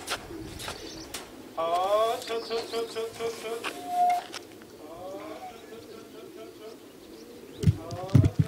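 Racing pigeons arrive back at their loft from a long flight out of Strasbourg. Soft cooing and chirps sound nearby among scattered flutters and knocks, while people talk quietly throughout.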